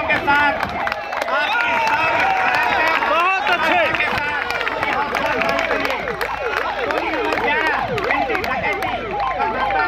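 A crowd at a Republic Day police parade applauds amid loud, close public-address music or sirens and marching bustle, with voices mixed throughout.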